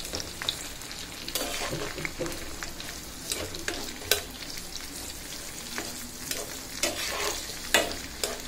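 Onion, garlic, tomato and green chilies sizzle in hot oil in a karahi (wok), with steady frying hiss and intermittent scraping stirs, close up and without talk.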